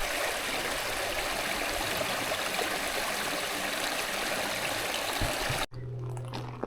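A mountain stream on the Appalachian Trail rushes close by in a steady, full-bodied flow, then cuts off abruptly near the end to a much quieter scene.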